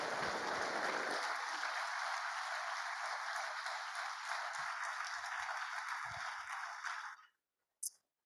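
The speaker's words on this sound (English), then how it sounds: "Another round of applause for the Rapult family" Broad, sustained applause fills a school auditorium, even and continuous for about seven seconds before cutting off abruptly, followed by a brief isolated thump.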